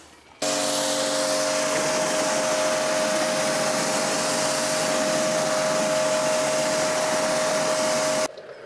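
Pressure washer spray rinsing a car wheel, one loud continuous hissing blast with a steady motor whine that runs for about eight seconds and then cuts off, close with no talking.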